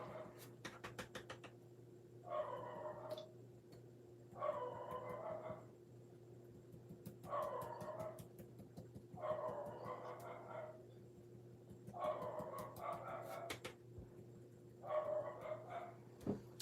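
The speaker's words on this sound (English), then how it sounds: "I think my dog has totally lost his mind today" A pet dog barks in bursts of several sharp yips, six separate volleys spaced a couple of seconds apart, over a steady indoor hum with faint clicking and handling noises.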